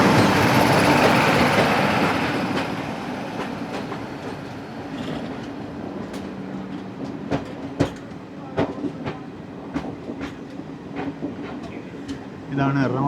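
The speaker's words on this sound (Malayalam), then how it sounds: "ഇതാണ് എറണാകുളം ഹസ്രത്ത് നിസാമുദ്ദീൻ മംഗള ലക്ഷദ്വീപ് എക്സ്പ്രസ്" The Mangala Lakshadweep Express, running Ernakulam–Hazrat Nizamuddin, rolls past with a loud, steady rumble, its wheels beating out a rhythmic clickety-clack of sharp clicks over the rail joints.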